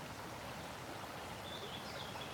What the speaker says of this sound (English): we got a lot of rain last night, so the creek is very high